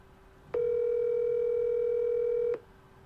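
A single steady telephone ringing tone plays for about two seconds, a clear electronic hum over quiet background, with no voices.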